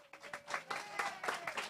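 Applause from an audience at a grand opening of an Alzheimer's community care facility, hosted at Grace Lutheran in Port St. Lucie; steady, moderately close clapping with soft rhythmic swells, no voices.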